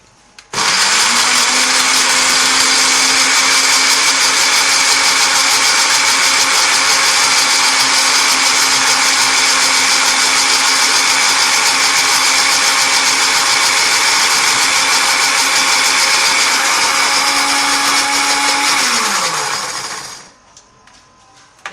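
A kitchen grinder grinds chillies with water, whirring loudly and steadily for about twenty seconds, a high motor whine over a churning blend, then winds down and stops.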